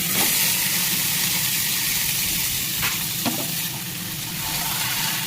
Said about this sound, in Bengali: চিকেনটা দিয়ে পেঁয়াজটার সাথে ভালো করে নাড়িয়ে চালিয়ে ভাজতে থাকবো।